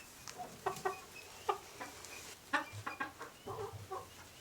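Chickens cluck in short, scattered bursts inside a farm coop where duck eggs are gathered, the calls fairly close and moderately loud, with no talking over them.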